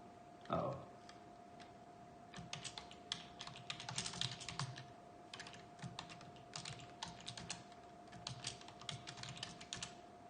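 A password is typed on a computer keyboard as a run of close, quick key clicks in uneven bursts, with a steady faint hum underneath.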